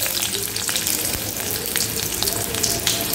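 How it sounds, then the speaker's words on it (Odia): Onions are frying in hot oil in a kadai for fish masala, producing a loud, continuous crackling sizzle that stays dense and close throughout with no speech over it. "ପିଆଜ ଆମେ ଟିକେ ନରମ ହେବା ପର୍ଯ୍ୟନ୍ତ ଫ୍ରାଏ କରିବା।"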